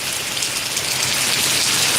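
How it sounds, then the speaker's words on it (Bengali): Rain falls steadily in a Malaysian village, a dense, even hiss of drops on surfaces that holds constant from start to end, no voices present. "বৃষ্টি এখন কমছে অনেকটাই"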